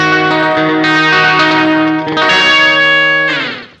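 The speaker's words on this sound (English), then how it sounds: "So if we turn the rate all the way down, we're going to get a pretty static LFO." A Swampwitch Season of the Witch delay pedal with its LFO rate turned all the way down gives a loud, sustained, harmonically rich tone with repeating echoes. The sound shifts a few times before fading at the end, and no one speaks.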